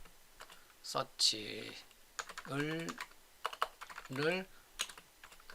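Typing on a computer keyboard, soft clicking keystrokes under someone talking in a lecture, quiet and close.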